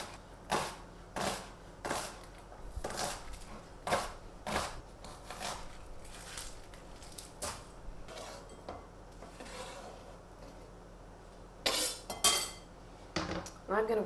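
A kitchen knife slices and chops mirepoix vegetables on a cutting board, giving about a dozen crisp, close knocks at a steady, unhurried rhythm with softer scraping between strikes and no talking.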